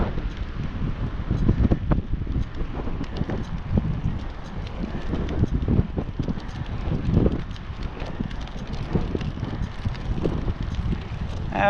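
Wind blows on the Powhatan Trail in Williamsburg, Virginia, buffeting the microphone with steady, fairly loud rumbling gusts, mixed with footsteps and faint rustling.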